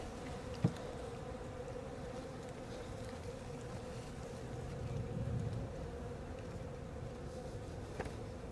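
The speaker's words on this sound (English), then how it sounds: "And within the hive, this hive, they're all honeybees, right?" A captured honeybee swarm clustered at a hive drones with a steady, low, continuous buzz close by, holding an even level throughout with a slight swell midway and no one speaking.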